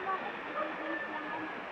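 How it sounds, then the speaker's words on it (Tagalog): Heavy rain sends water rushing hard nearby in a steady, broad roar with no break, while people talk close by. "lakas ng tubig dito"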